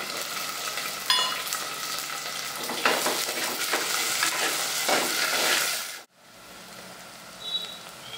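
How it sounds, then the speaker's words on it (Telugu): Onions, green chillies, curry leaves and dried fish fry in hot oil for a dried fish and brinjal curry, a loud close sizzle with stirring scrapes and clatter that suddenly drops to a quieter simmer near the end. "ఉల్లిపాయలు, పచ్చిమిరపకాయలు, కరివేపాకు, వీటితో పాటు ఎండు చేపలను కూడా వేయాలి."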